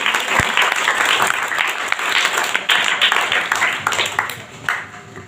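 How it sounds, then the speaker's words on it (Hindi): Loud, dense applause from a school audience greets a teacher being called up to speak at a school event, steady clapping filling the whole stretch with a few sharper claps standing out. "अगेंदर सर के लिए एक बार जोरदार ताली मारिए"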